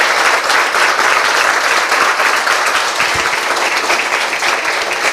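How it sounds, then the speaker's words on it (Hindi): A church congregation bursts into loud, sustained applause, many hands clapping together in a dense wash that stays steady throughout. "Yes, come on, give a big hand for the Lord"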